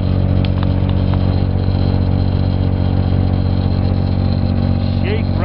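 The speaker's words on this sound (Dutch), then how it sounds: "Ik zit momenteel op 1000 toeren, 1400 op de motor." A vehicle engine drones steadily around 1000 rpm in high gear while driving through heavy snow in Saskatchewan, a loud, constant low rumble with someone talking over it.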